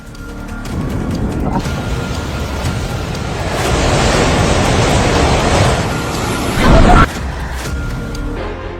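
Rushing floodwater in Nepal news footage, a loud continuous roaring wash of water and wind-like turbulence that swells in the middle and ends with a brief heavy surge.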